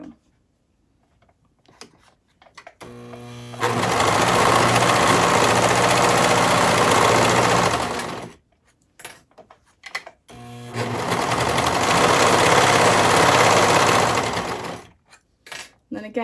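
A serger overlock machine sews a seam on a slouchy knit beanie, running in two steady, loud whirring stretches of several seconds each, with quieter handling sounds and pauses between them.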